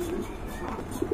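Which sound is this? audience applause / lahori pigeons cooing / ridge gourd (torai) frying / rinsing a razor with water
lahori pigeons cooing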